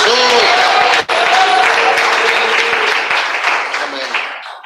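Church congregation applauding during a Christmas sermon, a steady wash of clapping for several seconds that thins toward the end, with voices and faint tonal sound underneath.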